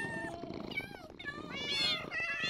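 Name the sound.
cats meowing in video game Minecraft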